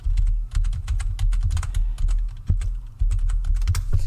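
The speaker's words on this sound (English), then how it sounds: "I'm just going to type it in for you." Steady typing on a computer keyboard, with close, rapid key clacks in uneven bursts over a low background hum and a few heavier strokes, like a space bar, in between.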